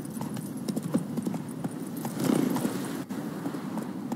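Roach, a horse in The Witcher 3, galloping: quick, rhythmic hoof clip-clops close by and fairly loud, with a brief snort or whinny midway and no talk.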